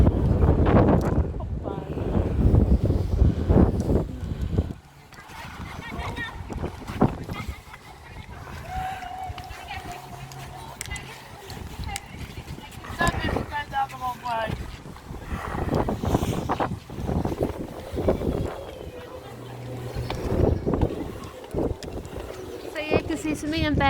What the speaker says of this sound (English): We've got the wind up here